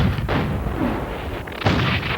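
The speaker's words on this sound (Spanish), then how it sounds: "Los cañonazos se oían hasta Punta Isabel." Cannon fire from Mexican artillery bombarding a fort during the Mexican–American War, heard as two heavy booming blasts about a second and a half apart, each with a rumbling tail.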